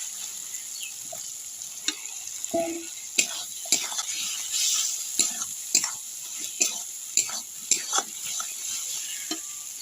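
Chopped tomato frying in a pan over fried ginger-garlic paste for Bengali chicken kosha, a soft steady sizzle broken by repeated sharp scraping clicks of stirring, close by.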